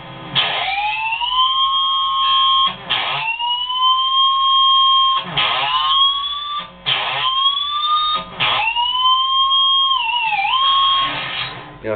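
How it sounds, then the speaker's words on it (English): Electric guitar natural harmonics squeal and bend in pitch with the whammy bar, rising and wavering, repeated several times with brief choppy strums between, loud and close. "Is a natural harmonic squeal"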